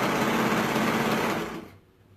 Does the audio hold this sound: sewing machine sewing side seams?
yes